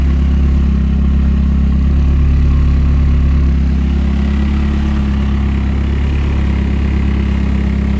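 A drift car's engine idles with a tarp draped over it, a loud, steady, low rumble with constant clatter and no talk.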